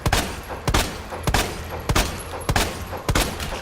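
Handgun shots fired at a zombie in the Resident Evil 2 Remake video game: about six sharp reports at a steady, deliberate pace, close and punchy, with no voices.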